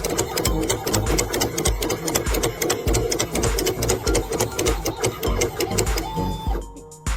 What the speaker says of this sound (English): It is winding copper wire to create a motor coil.